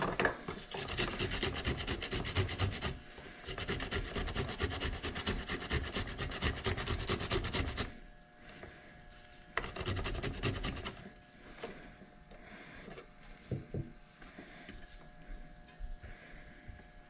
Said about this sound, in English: folding your egg rolls, rolling your egg rolls